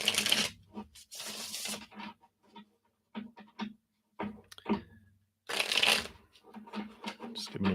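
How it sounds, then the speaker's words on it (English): A deck of oracle cards being shuffled close up, with bursts of riffling and soft flicking that come and go in an uneven rhythm over a quiet background. "Just giving them a shuffle here."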